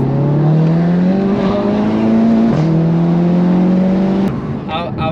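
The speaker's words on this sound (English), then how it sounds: "I've never felt an acceleration like that in the car before" A tuned 440bhp stage 3 Audi TT accelerating hard, its engine note climbing steadily through a gear change before a brief lift, loud and close from inside the car.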